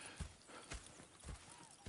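Horse hooves clop in the Red Dead video game, a few soft, evenly spaced thuds about half a second apart, faint and close, with no voices.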